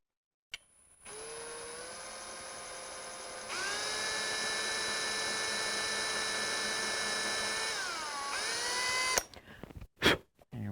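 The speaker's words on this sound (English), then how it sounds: "Go slow, let the drill bit do its work," A power drill whines steadily for several seconds while drilling holes in a guitar build, its pitch rising as it bites in, then winds down and stops, followed by a few short clicks.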